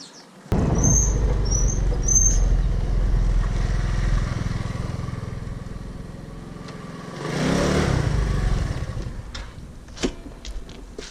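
A motorcycle engine rumbles nearby, holding a steady drone before surging louder as it passes, then fading; a few faint squeaks sound early on.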